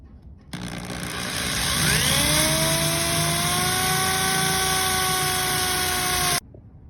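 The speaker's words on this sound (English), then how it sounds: "you want to start by drilling a hole in the corner" A power drill bores a hole into the corner of a wooden box, its motor whining steadily and rising in pitch as it spins up, loud and close for several seconds before stopping.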